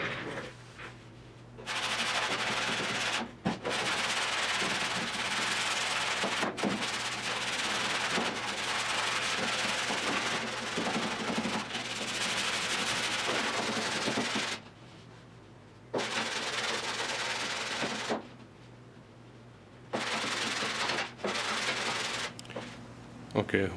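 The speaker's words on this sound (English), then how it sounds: "we're gonna start by sanding this entire area" Primer and Bondo are sanded by hand on a 1972 Triumph GT6 body, a close, steady abrasive rubbing in long strokes broken by short pauses.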